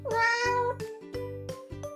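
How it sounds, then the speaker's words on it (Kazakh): A cat lets out a clear, drawn-out meow close up, set against a short bouncy musical phrase with rhythmic tones. "Мысық."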